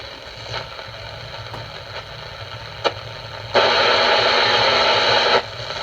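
A Silvertone 7039 radio is tuned across its second shortwave band. Soft hiss and faint warbling carry a few sharp clicks, then a loud burst of static holds for about two seconds before dropping back.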